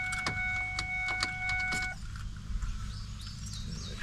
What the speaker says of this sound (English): turn the key on and roll this window down